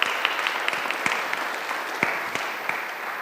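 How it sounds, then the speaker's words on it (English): A neighbourhood community meeting audience applauds steadily at moderate volume, with individual sharp claps standing out from the continuous clapping. "Let's give them a round of applause"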